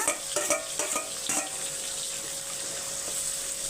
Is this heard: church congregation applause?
no